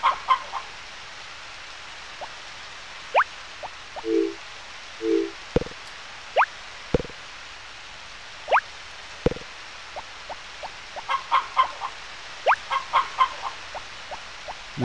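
Chicken clucking in the farming video game Harvest Moon: Back to Nature, short repeated game-sound clucks and chirps scattered across a quiet background, with a few sharp clicks between them.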